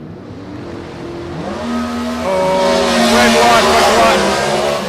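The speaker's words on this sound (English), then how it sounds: "Now listen to both these cars rev so high." Drag racing cars rev hard at an elimination meet, one a 336 cubic inch Chevrolet small block, their engines building to a loud, high-pitched roar close by, with an announcer talking over them.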